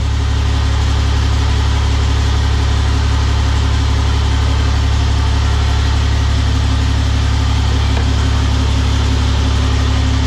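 A heavily modified 6.7 Cummins diesel truck engine runs steadily and loud with a deep low rumble throughout, close by, no voices over it.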